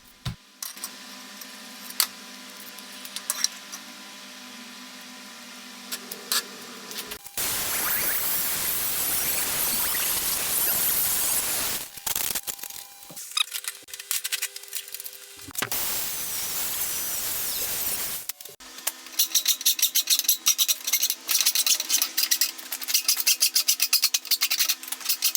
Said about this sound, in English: Here I just get the angle grinder with a flap disc and just grind off all the weld beads on the surface